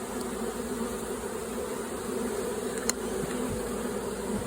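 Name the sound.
honey bee swarm buzzing going into hive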